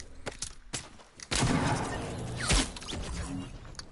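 Sharp sniper gunshots crack out in Fortnite, several sudden bangs against a busy rumbling backdrop, one heavy shot standing out near the end.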